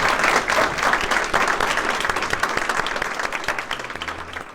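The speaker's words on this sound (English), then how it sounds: "if you would all give our panelists a round of applause" An audience gives a sustained round of applause for the panelists at a sustainability talk. The clapping stays full and even throughout, then tapers slightly toward the end.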